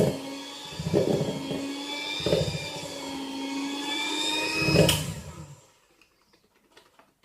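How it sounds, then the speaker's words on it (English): An electric whisk whirs steadily through a bowl of butter, eggs, flour and milk, a high motor whine with rhythmic knocks against the bowl roughly every second, then cuts off into near silence. "mix with an electric whisk until pale and creamy"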